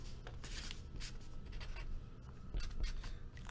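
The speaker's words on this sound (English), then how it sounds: "Let me write that down." Pen scratching across paper at a table while someone writes a note by hand during a soccer trading card break, quiet short strokes and shuffling repeating over a few seconds with no talk.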